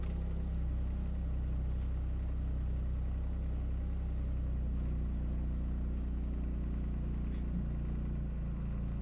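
Toyota GR Corolla with a Cusco pitch mount idling just after a cold start, a steady low engine drone with a constant rumbling hum, close and even throughout.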